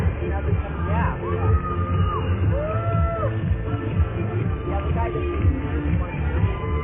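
A marathon crowd cheers outdoors for passing runners, a steady hubbub of voices with whoops and shouts rising above a loudspeaker announcer's talk.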